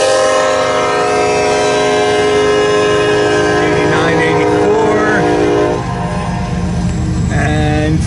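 A manifest freight train rolls past in freezing weather, its loud steady rumble and rail clatter layered with sustained horn-like tones, close and continuous, while a person talks over it.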